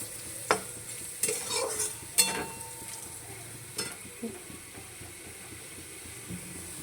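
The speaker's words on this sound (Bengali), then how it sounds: "তো দেখো এখানে আলু ভাজা হচ্ছে বাবুনের" Potatoes fry in a pan, with a low steady sizzle and a few sharp scraping stirs in the first four seconds, then quieter frying.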